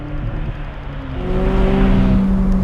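McLaren 600LT Spider supercar engine while driving, a steady loud drone that rises in pitch and volume midway as the car accelerates, with no talking over it.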